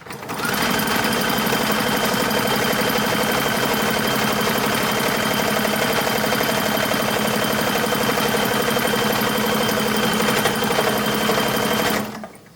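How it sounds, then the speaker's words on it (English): A sewing machine stitches a long sleeve for a 1940s WWII uniform, a loud, close, rapid mechanical whir running continuously for about twelve seconds before stopping. "And then I'm going to sew this long sleeve together."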